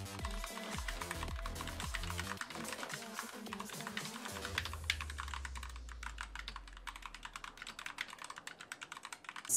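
Fast, steady typing on a mechanical gaming keyboard, close and clear, with dense rapid key clicks throughout and no voices.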